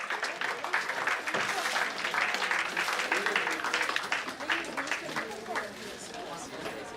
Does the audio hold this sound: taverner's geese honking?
no